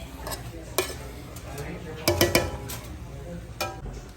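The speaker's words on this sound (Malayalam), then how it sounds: "ചിക്കനൊക്കെ കൂടി നമ്മൾ വഴറ്റുകയാണ്" A spoon scrapes and clinks against a pot while chicken sautés with a faint sizzle, with a few sharp metallic knocks close by.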